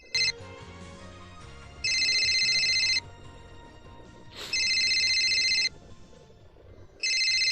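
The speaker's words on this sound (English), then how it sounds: "Oh, that's a phone ringing." A telephone rings in the Steins;Gate video game: three loud electronic ringtone bursts, each lasting about a second and a half, separated by short gaps over a soft background music bed.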